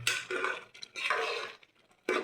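Metal pot lid lifted off a pot of egg biryani, clattering scrapes and clinks in short bursts with quiet gaps, close and fairly faint.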